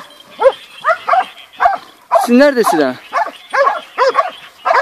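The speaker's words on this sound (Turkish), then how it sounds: "orada köpeklerin sesinin olduğu yerde" Several hunting dogs bark and yelp in quick bursts nearby during a wild boar hunt in Terme, Samsun, Turkey, one drawn-out howling cry in the middle, with a person speaking briefly over them.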